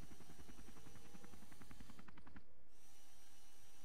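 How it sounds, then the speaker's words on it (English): A mini helicopter flies in the Henry Stickmin video game, a rapid, steady rotor chop that runs for about two seconds and then cuts off, leaving a faint hiss. No one speaks. "Mini helicopter."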